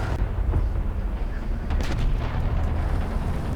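A British Striker rocket launcher fires in War Thunder, giving dense, rumbling booms and low thuds that fill the whole stretch without pause.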